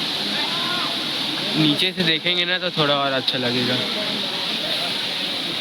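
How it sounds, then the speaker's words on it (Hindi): Waterfall at Amarkantak, Madhya Pradesh, with water pouring down in a steady, close, even rush that continues under a voice and on alone after he stops. "जो ऊपर से पानी जा रहा है भाई नीचे पूरा"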